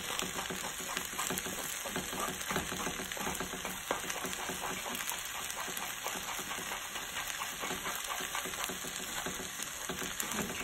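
An egg sizzles and fries steadily in a hot pan for chicken fried rice, with scraping stirs as it is scrambled among the rice, a continuous crackling sizzle close by.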